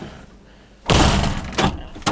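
A camper van's security door with a stainless steel screen swings shut with a loud, close clatter and rattle, followed by two shorter metallic knocks as it latches.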